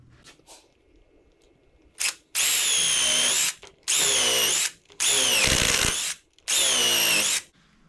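A power drill drives a number 9, 2.5 inch construction screw in four long, loud whirring bursts, each rising in pitch, with short pauses between them.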